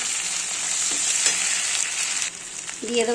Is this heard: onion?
yes